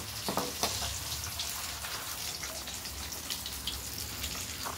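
Batter fritters (bora) frying in a small wok, a steady dense sizzle and crackle with scattered popping spatters, close and even throughout with no talk.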